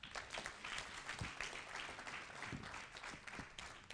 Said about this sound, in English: give him a bigger round of applause